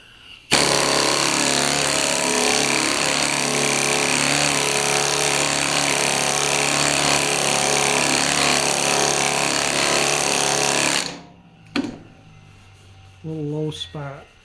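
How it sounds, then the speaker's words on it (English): Pneumatic air file running loud and steady on the steel door of a 1966 Ford Galaxie 500 convertible during body work, a harsh continuous buzz for about ten seconds, then stopping, followed by brief clanks and a short voice. "I might hit that with the air file again and just see where it shines"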